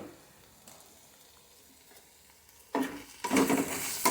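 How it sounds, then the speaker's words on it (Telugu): Okra and onions frying in a pan with turmeric and pink salt, a faint quiet hiss at first that swells into loud crackling sizzle as the mix is stirred near the end. "ఒకసారి కలిపేసేసి కొంచెం సేపు వేగనిస్తాను"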